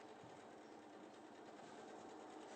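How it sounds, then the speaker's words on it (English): A sewing machine runs continuously as it stitches around the edges of a cushion, a fast, even mechanical whirr heard close and alone from start to finish. "Sewing machine going around the edges now."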